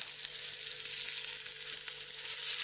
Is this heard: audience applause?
no